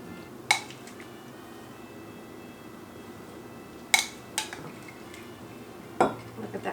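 Food is spooned into a bowl at a Cinco de Mayo meal at home: a few sparse metallic clinks of spoon on dish stand out against a quiet room background.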